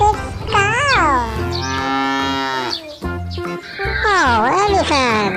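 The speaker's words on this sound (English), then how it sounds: "Big cow." A big cow gives a long, drawn-out moo near the middle, loud and close, with cartoonish voices and music around it.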